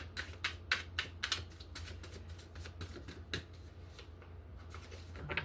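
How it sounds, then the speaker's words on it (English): Tarot card deck being shuffled by hand, a quiet run of crisp, rapid riffling clicks and flicks in uneven bursts, close and soft with a low hum behind and no talk. "Do one more shuffle."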